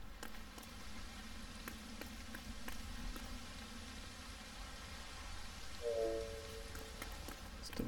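Steady rain falling across the landscape in LEGO Fortnite, a continuous hiss of drops that runs evenly throughout, with a brief tonal game sound near the end.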